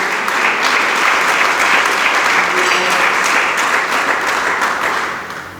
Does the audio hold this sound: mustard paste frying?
no